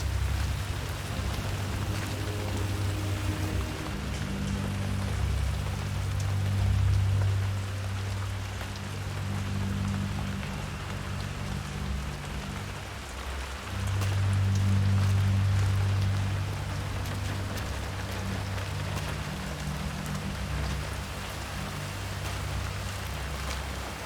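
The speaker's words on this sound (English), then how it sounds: "I'm never going out in the rain again." Steady, dense rain falls in the video game Hitman 3, a continuous hiss with a low rumble underneath that swells briefly twice, with no voices.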